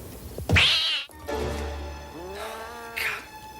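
A cat meowing in a scene from the horror film House III, three loud, drawn-out meows close by, the first sharp and strained, the later ones longer and wavering.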